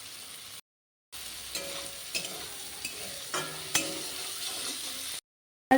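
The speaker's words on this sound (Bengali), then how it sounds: "মাছগুলো আমি হালকা করে ভাজবো" Prawns fry lightly in a pan, making a soft, even sizzle. Spatula stirring adds scrapes and light metallic clinks, and the sound cuts out in brief silent breaks at the start and end.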